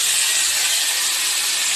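Unpeeled potatoes fry in a pan with a steady, loud, broadband sizzle and hiss that continues without a break.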